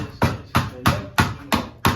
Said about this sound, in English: He's hammering right there.